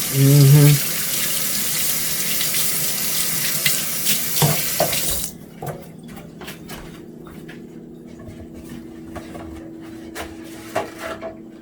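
Tap water runs steadily into a kitchen sink while chicken is washed, a loud continuous splash for about five seconds, then stops, leaving quieter knocks and handling sounds.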